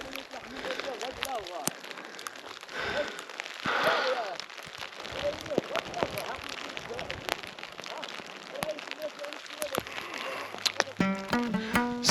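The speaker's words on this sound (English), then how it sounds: "They're just little snowballs. They're not flakes, they're snowballs." Small snow pellets patter and tick on surfaces high on Mount Toubkal in Morocco, a close, irregular scatter of light taps with sharper clicks here and there, and a few faint beeping tones near the end.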